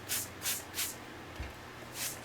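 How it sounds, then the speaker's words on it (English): Four short bursts of a hand spray bottle misting water over a Chinese brush painting, evenly spaced hissy puffs heard close and fairly quiet, with a soft thump between them. "I have to spray the whole thing again."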